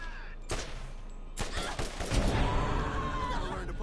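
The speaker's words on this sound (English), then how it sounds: "shoot me with that, shoot me with that, that new assault rifle" An assault rifle in a video game fires in rapid bursts, loud and close, with crackling shots that follow a brief pause and then run together into sustained automatic fire.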